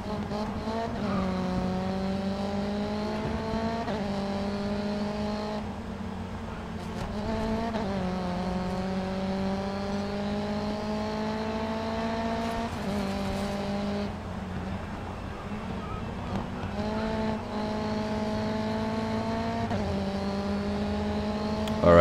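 Race car engines roar in GRID Autosport, including a BMW, with repeated rising revs through the gears, each climb cut off by a shift, a continuous loud whine with faint tyre noise and no talk.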